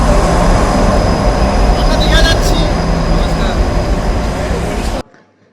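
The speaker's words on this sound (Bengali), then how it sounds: "মেট্রোতে এখন উঠে পড়েছি" Ride aboard a metro train heading from Dum Dum to Esplanade, a loud steady rumble and rolling rail noise with faint speech traces mixed in, cutting off abruptly near the end.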